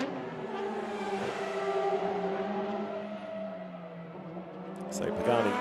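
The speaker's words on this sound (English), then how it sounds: "So Pagani goes for the pits." Pagani and Lamborghini GT race cars lapping the Barcelona circuit, with engines droning steadily at mid distance. A commentator talks over them, and a louder passing rev swells near the end.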